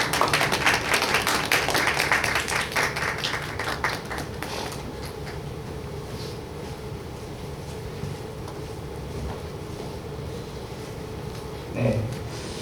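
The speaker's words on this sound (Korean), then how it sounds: "네, 우리 박수로." A church congregation applauds at a Sunday service, a dense wash of clapping for about four seconds that thins out and fades into quiet room ambience.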